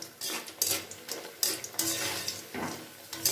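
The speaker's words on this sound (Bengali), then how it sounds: "একটু লালচে মতো করে এই বড়িগুলোকে ভেজে নেব।" Lentil dumplings (bori) fry in a pan for a greens dish, with close metallic scrapes and clinks of a spatula over a steady broadband sizzle in short bursts; no talking.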